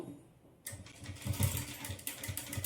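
A sewing machine starts up and stitches a blouse, running as a fast, even mechanical whir with a rapid needle rhythm after a moment of quiet.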